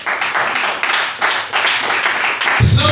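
A church congregation claps to acclaim the Lord during a sermon, a steady wash of many hands that stays loud throughout and swells fuller in the final half-second.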